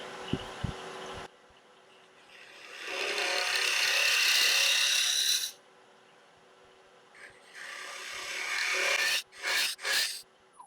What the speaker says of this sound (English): Switch to a slightly heavier spindle gouge.